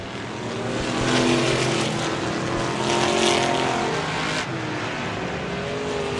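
Vintage race cars on the Merrittville dirt track roar past in a dense, continuous engine wash, with rising and falling surges as cars pass and lapped traffic closes, loud and steady throughout.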